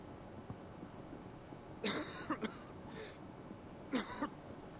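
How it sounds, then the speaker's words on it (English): A few hoarse coughs from a video game character in quick bursts, then another pair a moment later, moderately close over a low background hiss. "Oh, Joshua, you're coughing"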